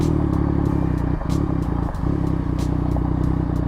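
A Yamaha MT-09 engine runs steadily up close during a quickshifter cutoff test, its even idle rhythm broken by a couple of brief cut-out stutters partway through, with faint ticking clicks above.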